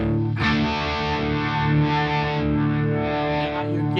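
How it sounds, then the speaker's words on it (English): Electric guitar run through a Uni-Vibe modulation effect from a multi-effects unit, with a sustained, distorted chord swirling and pulsing in a wavering chorus-like way, loud and alone. "Now you're getting that Uni-Vibe effect."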